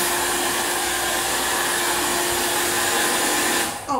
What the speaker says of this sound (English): The key is to try to get all the wrinkles out of the bag with the dryer.